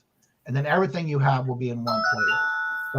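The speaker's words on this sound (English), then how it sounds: "No, that's my phone." A mobile phone rings with a steady electronic tone that starts partway through and continues under a person talking.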